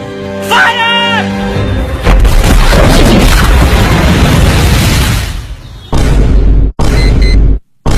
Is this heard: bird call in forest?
no